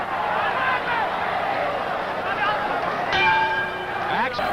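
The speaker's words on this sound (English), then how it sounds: "Right hand by Mercedes as we head for the bell, marking the end of the 14th." Boxing ring bell ending the 14th round of a world flyweight title fight, a single bright ringing strike that sustains and decays under crowd noise and a commentator's voice.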